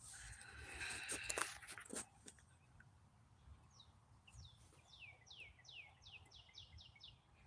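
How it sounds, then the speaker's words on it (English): Birds sing in the woods on a walk: after a stretch of rustling and crunching near the microphone, a bird gives a quick, accelerating series of bright chirps that run into a trill, moderately near and clear over quiet background. "I love hearing the birds."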